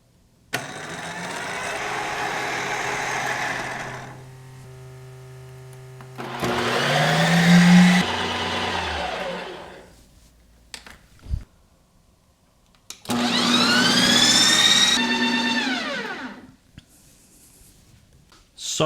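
An IcyTreat ice cream maker and a Ninja Creami Deluxe run empty, each giving loud, steady motor whirring in separate bursts of several seconds with quiet gaps between, one burst rising in pitch as it spins up.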